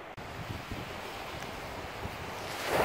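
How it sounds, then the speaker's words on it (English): Steady southwest wind blowing across Ocean Pond, a lake at a Florida campground, with rough water; a continuous broadband rush of wind and lapping waves, fairly close and even, swelling slightly louder at the end, no voices. "we got a southwest wind, and it gets a little rough out there"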